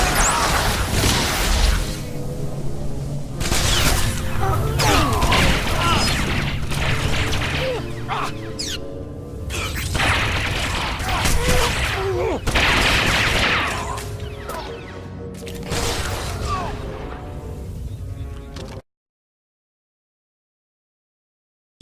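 Dense blaster gunfire in a firefight from Star Wars: The Old Republic, a near-continuous loud barrage of shots, impacts and whooshes with voices shouting through it, ending abruptly in silence.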